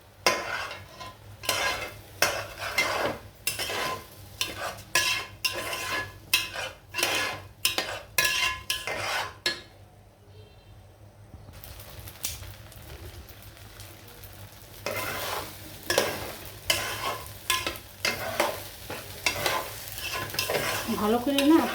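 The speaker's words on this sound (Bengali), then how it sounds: "আমি সবসময় ভালো করে চালটা ভাজি, এটা ঝরঝরা হয়" Raw rice being fried and stirred in a pan for chicken polao, a steady sizzle with repeated scraping strokes of a spoon against the pan, close and continuous, with a brief quieter pause midway.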